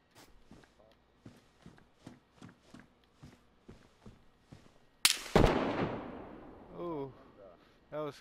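A run of footsteps in DayZ ends in one loud, close gunshot that booms and rings out, followed by fainter rumbling.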